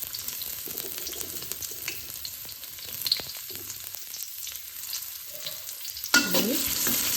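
Shallots sizzle in hot oil in a home kitchen wok for fried rice, a steady crackling fry broken by scraping stirs of a spatula, with a louder burst of sizzling near the end.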